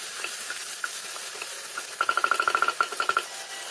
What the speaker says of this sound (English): Next goes in the tomato. Fry the tomato well.